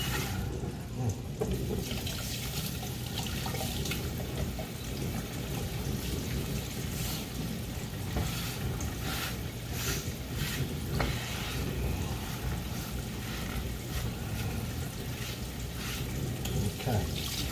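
Knife blade washed in soapy water: a steady wash of running, splashing water throughout, close and fairly even, with no clear speech.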